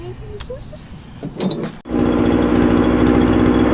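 A Husqvarna 136 chainsaw, just back from a carburetor rebuild, settles into a loud, steady idle after a brief quieter stretch with voices and small noises.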